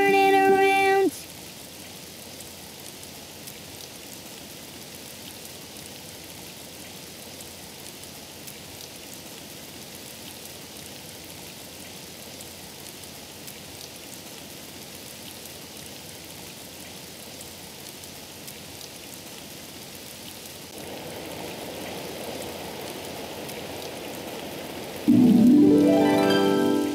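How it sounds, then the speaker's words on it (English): Steady rainfall hisses continuously in the background, soft and even, with brief louder sounds at the start and end. "It's raining outside."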